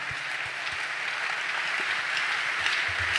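Applause from a church congregation, dense and steady across the whole stretch at a moderate level, with no voices over it.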